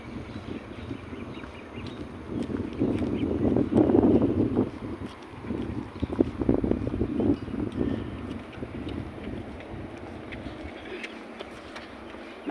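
Evening wind blows through a park and buffets the microphone in rough, uneven gusts that build and fade, with faint rustling beneath.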